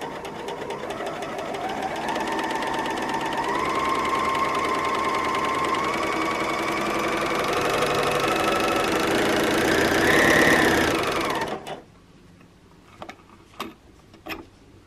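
A Bernina L460 overlocker runs a seam in one steady, fast mechanical whir that rises slightly in pitch before it stops abruptly near the end, followed by a few faint clicks and handling taps.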